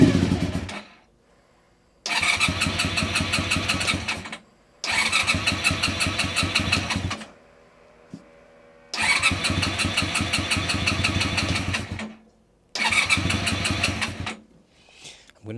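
Honda VFR400 NC30 motorcycle engine with carbs long out of use is cranked over with the choke on, several loud starter bursts separated by pauses, catching briefly into a rough idle between attempts.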